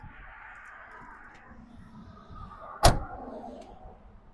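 A single solid pickup truck door shuts with a sharp thunk and no rattle, heard up close against faint background hum.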